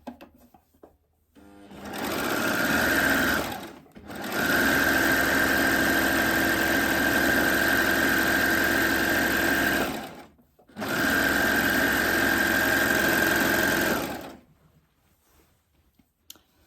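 A Babylock Acclaim serger runs a rolled hem on chiffon in three bursts of fast, steady whirring, each a few seconds long with brief pauses between, close and clear with no talking.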